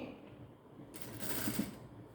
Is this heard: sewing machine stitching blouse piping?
yes